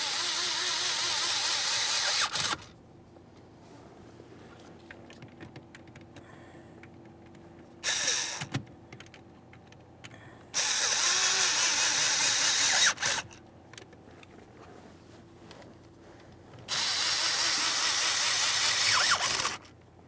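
Screws on the ignition starter switch of a 1994–2001 Dodge Ram 1500 being snugged down with a hand tool: several short bursts of ratcheting and driving, separated by quiet gaps, close and fairly loud.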